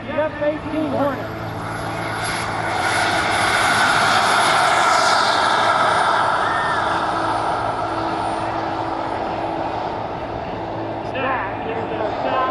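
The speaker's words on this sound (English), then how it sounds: "That is the sound of a genuine, honest-to-God turbine engine in miniature form." A miniature turbine jet engine in a model F-18 Hornet spools up at an airshow, a loud sustained whine and roar that swells and holds, with an announcer talking over it.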